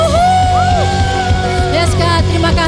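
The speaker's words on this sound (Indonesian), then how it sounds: "Semuanya teriakan." A church congregation at an online worship service shouts together in a loud, sustained crowd roar, voices overlapping continuously throughout with no pause.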